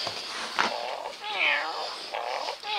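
A cat meows several times in drawn-out, wavering cries, close and fairly loud, with short gaps between calls.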